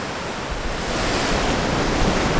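Sea waves breaking on the rocky north Cornish coast at Crackington, a loud, continuous close-up roar of surf and wash with wind buffeting, swelling slightly toward the end.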